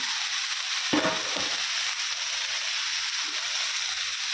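Tomatoes and peanuts are tipped into a hot frying pan. A soft thud is followed by a steady, close sizzle of frying that continues to the end, with no talking.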